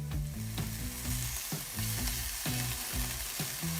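Bread slices for a corned beef and egg sandwich toast in a hot pan until crispy, giving a steady close sizzle with periodic scraping and tapping of a spatula over soft background music.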